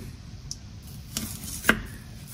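A knife slicing a peeled garlic clove in half on a cutting board, two or three crisp close chops in a quiet kitchen.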